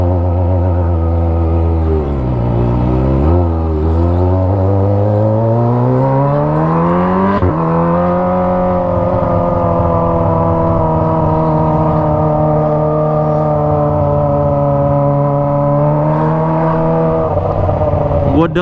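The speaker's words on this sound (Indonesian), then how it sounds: "Gue denger sih knalpot ini udah nggak begitu berisik ya" Kawasaki ZX25R motorcycle fitted with a Toce exhaust riding through busy, potholed city streets, its engine droning continuously with rising and falling revs, loud and close throughout.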